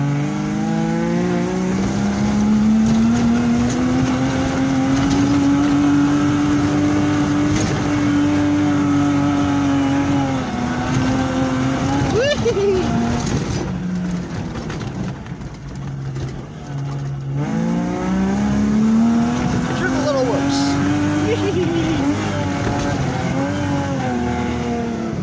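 A 4x4 truck fitted with a Toyota Supra 7M engine labors up a foggy hill, its loud sustained engine note rising and falling with throttle, dipping briefly midway before pulling hard again.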